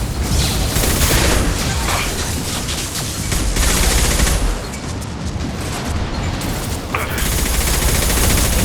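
A high-impact shot fired in Mass Effect 2 amid a loud, sustained barrage of gunfire and booming impacts, with intermittent voices in the mix.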